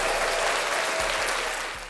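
An audience claps in a loud, dense burst of applause that fills the space and begins easing off at the end, with a few low thumps underneath.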